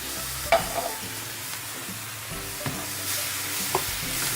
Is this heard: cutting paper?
no